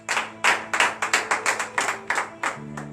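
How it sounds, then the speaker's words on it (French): A round of steady, rhythmic hand clapping, about ten crisp claps close by, from a small group at a morning prayer service. "Donnez l'acclamation à Jésus."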